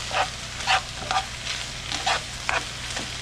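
Porcini (king bolete) mushroom egg roll mixture sizzles in a hot pan with a steady background hiss, while a spoon stirs it in repeated scraping strokes about every half second.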